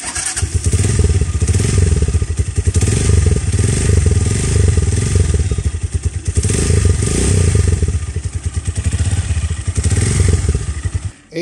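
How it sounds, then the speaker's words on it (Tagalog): A Rusi Mojo 200 motorcycle engine idles and revs steadily, a loud, throaty exhaust rumble that swells and dips across the whole stretch with no voices. "exhaust niya, maganda din. Parinig ko sa inyo yung tunog"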